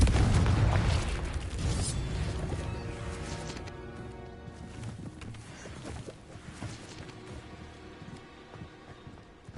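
A Confringo fire spell explodes in Hogwarts Legacy, a loud booming burst at the start that fades into a long, decaying crackle and softer game ambience.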